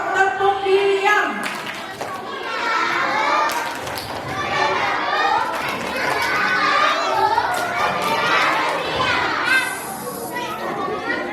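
A group of Indonesian children doing a rhythmic clapping chant in a classroom-like setting, bursts of claps mixed with their voices, loud and lively with an adult speaking in between.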